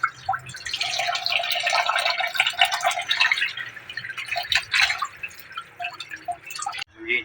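Water is poured into a pan of kanduli fish cooking with tomatoes, giving a close, loud splashing and gurgling stream with dripping. It runs for several seconds, then breaks off into a few last drips.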